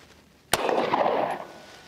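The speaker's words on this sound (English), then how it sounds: "put that ammo that I told you about here into the pistol, and I'm gonna go ahead and shoot it" A single sharp gunshot from a standard SIG P365 pistol during an ammunition penetration test: one loud, abrupt crack followed by a roughly one-second reverberant tail that fades out.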